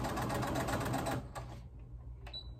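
A sewing machine back stitching a homemade fabric face mask runs in a fast, steady, close mechanical rattle for just over a second, then stops, leaving quiet room noise and a faint click.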